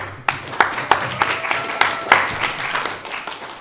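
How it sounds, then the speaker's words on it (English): Audience at a Star Wars panel at a comic con applauds the guests, with distinct sharp claps standing out over a steady wash of clapping for several seconds. "Please give them a round of applause."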